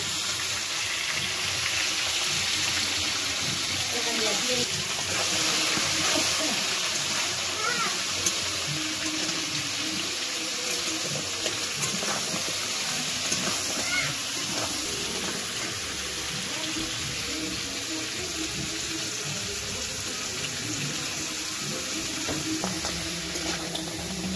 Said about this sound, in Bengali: কাঁকড়াগুলো ভেজে নিচ্ছে।